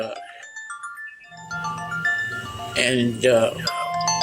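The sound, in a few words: phone ringing with an incoming call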